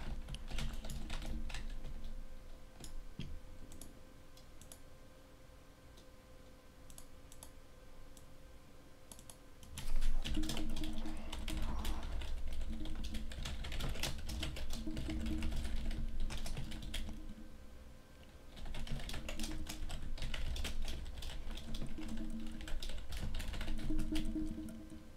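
An essay is typed on a computer keyboard, steady runs of close keystroke clicks that grow busier and louder midway, with a low background hum throughout and no talk.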